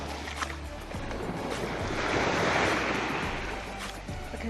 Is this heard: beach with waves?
yes